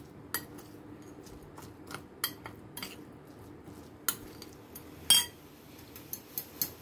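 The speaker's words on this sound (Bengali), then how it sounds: "এটাকে একটা আমি ভালো করে মিক্স করে নেব" Cardamom powder being mixed into a bowl with a metal spoon, giving a series of light clinks and scrapes against the bowl at an uneven rhythm, close and fairly quiet.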